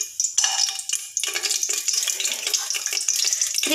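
Cinnamon dropped into hot gingelly oil in a pressure cooker, a close, bright crackling sizzle that bursts up and holds steadily through the short moment.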